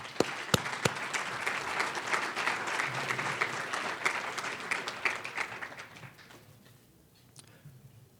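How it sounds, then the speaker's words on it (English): A hall audience at a Hall of Fame induction dinner gives a sustained round of applause for Jeremy, dense clapping that stays steady for several seconds before thinning and fading out near the end, with a few sharper claps standing out early. "And another round of applause, please, for Jeremy."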